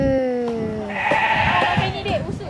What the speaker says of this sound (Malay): Kambing.